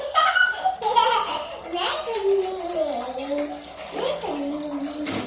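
Clothes are washed by hand in water, with splashing and sloshing under a child's chatter and giggling, the voices close and lively throughout.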